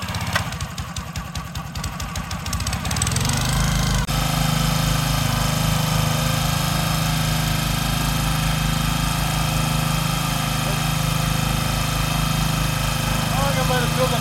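Small engine on a Pioneer BS200 paint liner, sputtering at first and then settling into a steady, loud, close running drone, with a person speaking.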